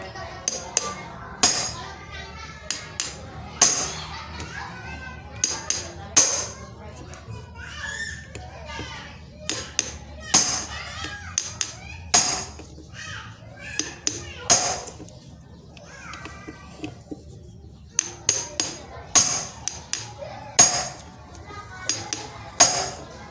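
A hammer strikes metal while a Yamaha RX-King 135cc motorcycle engine is taken apart, giving sharp, loud blows in irregular clusters, with someone talking in between.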